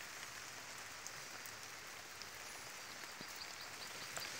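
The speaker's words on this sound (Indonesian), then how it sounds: "Pagi-pagi ini hujan sekitar pukul 7." Morning rain falls steadily on a rice field, a soft, even wash of drops with faint patter throughout and no voices.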